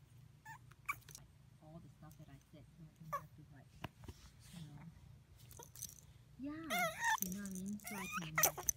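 A puppy's soft, high whimpers and yips come in short bursts near the end, over quiet room noise and a few small rustles.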